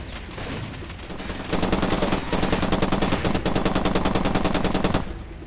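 Sustained automatic gunfire from a firefight in the video game Far Cry 2, a dense rapid rattle that swells louder after the first second and a half and keeps going for several seconds before cutting off, with no talking.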